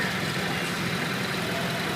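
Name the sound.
1941 Farmall A tractor engine idling in parade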